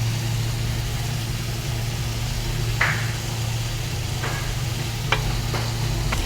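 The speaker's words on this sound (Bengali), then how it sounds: "দেখেন এগুলা মাংসগুলো একটু শুকে ফেলছি।" Pieces of meat searing in a pan before raisins go in, a steady sizzle over a low droning hum, with a few sharp scraping stirs breaking through.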